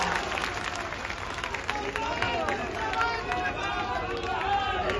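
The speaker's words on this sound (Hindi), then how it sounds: "मैं चाहता हूं एक बार जोरदार ताली से आप लोग इनका भी।" A crowd applauds and cheers at a political rally after a nomination filing, a dense continuous roar of clapping and voices held at steady volume throughout.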